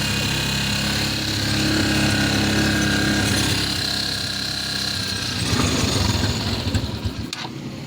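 A motorcycle engine with a stator coil and wiring fault idling on choke: a loud, steady buzzing run up close that roughens and fluctuates toward the end, with no talking.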